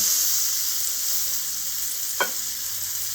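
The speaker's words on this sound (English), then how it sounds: "I like to gently roll it through the pan to get that sear all the way around" A grass-fed tenderloin steak sears in a hot pan, giving a steady, loud sizzle and frying hiss throughout, with one brief scrape or clink as the meat is rolled.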